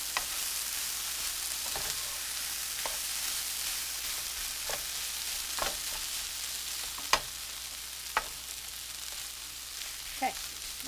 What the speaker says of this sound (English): And just mix it up and let it melt in there